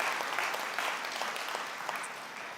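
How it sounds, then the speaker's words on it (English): Audience applause at a national convening of a foundation, a steady dense patter of many hands clapping throughout, fairly even in loudness with no speech over it. "deserve another round of applause for that incredible research"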